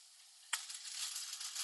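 Eggs hit a hot pan and break into a sudden soft sizzle that holds steady and quiet after the first sharp crackle.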